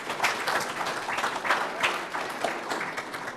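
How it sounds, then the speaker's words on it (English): Audience applause for the audio-video staff at a Pro Football Hall of Fame event, a steady wash of clapping from a crowd lasting a few seconds at moderate level. "Our audio-video staff, let's give them a round of applause as well."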